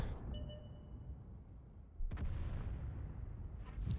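Enemy tank cannon shot in World of Tanks, a single sharp boom with a rolling tail cutting through steady battle ambience, fairly loud and alone without talk.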